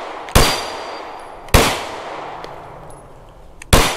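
Three sharp pistol shots from a SAR 9X handgun firing 9mm Herter's ammunition at an outdoor range, spaced about a second or two apart, each a loud crack with a short ringing tail.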